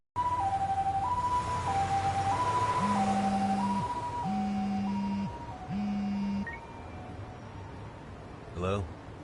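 An ambulance siren in the video game Lost Judgment wails in a steady two-tone alternating pattern, loud and close, joined by a lower pulsing horn and background traffic noise, ending with a brief clattering burst.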